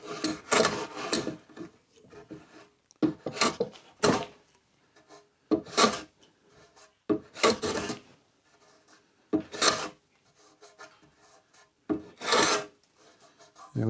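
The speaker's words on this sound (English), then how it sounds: "I'm going to use the plane to do that" A hand plane shaves down wooden blocks glued into a piece of furniture during a home upcycling project, giving six or seven separate rasping strokes with short pauses between them, close and fairly loud, with no talk.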